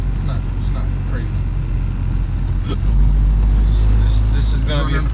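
A turbocharged Honda B20 engine with Type R cams pulls hard under acceleration, a steady loud drone that swells and deepens midway as the revs climb; people can be heard talking over it.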